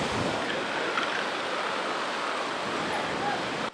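Stormy Aegean sea surf roars as one continuous, loud and broad wash of crashing waves and spray, steady throughout with no pauses.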